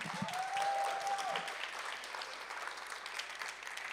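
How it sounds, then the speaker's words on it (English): A poetry jam audience keeps up steady, continuous applause for an arriving performer, with a brief whooping cheer near the start. "Can we keep the claps going for Joe Perry, please?"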